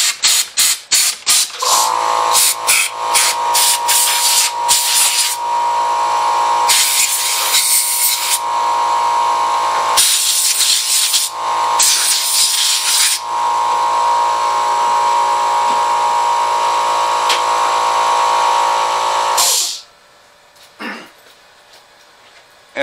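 Compressed air blasting dust out of a PS5 CFI-1015B console, with loud hissing bursts that start as short rapid puffs and then run as long sustained sprays with brief gaps, before stopping abruptly.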